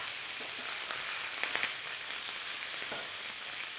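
Pork belly for yakisoba fries and browns in a pan with a steady, close sizzle and crackle, a few brief pops and faint utensil movements on top of the hiss.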